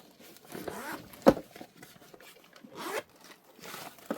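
A zipper on a black tomtoc T24 Navigator 14-inch sling bag is pulled open in a few quick rasping strokes, close and fairly quiet, with one sharper tug partway through.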